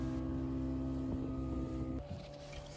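A motorboat speeds across the open sea off Sri Lanka, its engine a loud, steady drone with rushing wind and water that drops off near the end.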